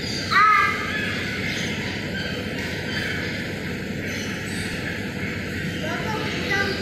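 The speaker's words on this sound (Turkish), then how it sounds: "buradan kuş çıkıyor" Recorded bird calls, crow-like caws, played through outdoor loudspeakers: one loud harsh call near the start, then fainter calls over a steady low background hum.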